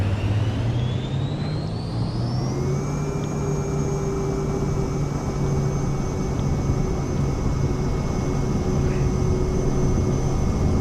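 In Microsoft Flight Simulator, a Vision Jet's engine spools up to full takeoff power, the steady whine rising in pitch over the first few seconds and then holding as a loud, even roar without any voices.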